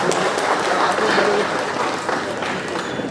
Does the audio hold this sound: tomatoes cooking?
no